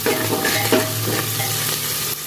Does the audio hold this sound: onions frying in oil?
yes